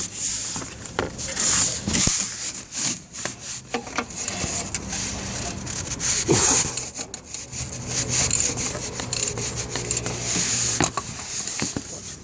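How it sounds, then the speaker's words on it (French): A ratchet or socket wrench loosens the 21 mm oil drain plug under a Peugeot 206 1.4 HDi, giving a continuous run of close, scraping clicks for about twelve seconds. "il faudra le dévisser avec une douille de 21 mm, clé à pipe ou clé à cliquer."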